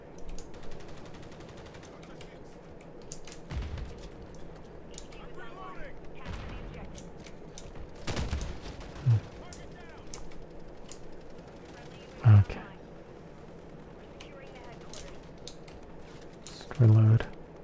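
Bursts of automatic gunfire in Call of Duty, scattered rapid shots and a few louder thumps across the stretch, mostly quiet and under a man's soft close-up talk, with some vocal rat-tat-tat imitation of the firing.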